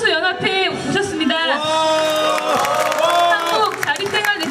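A crowd at a Korean disability-rights sit-in rally and cultural event cheers and shouts as a visiting group is introduced, with voices rising and whooping over scattered clapping and music-like tones throughout.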